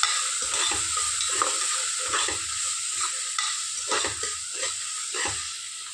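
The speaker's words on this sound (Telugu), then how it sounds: "ఇప్పుడు మీరు అల్లం వెల్లుల్లి పేస్ట్ వేయించాను కదా, చూసారు కదా." Ginger garlic paste frying in a pan for a potato and capsicum curry: a steady hiss with repeated scraping spoon strokes throughout, close and fairly loud, no talking.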